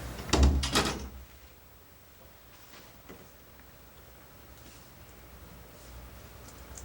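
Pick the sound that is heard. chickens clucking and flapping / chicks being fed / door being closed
door being closed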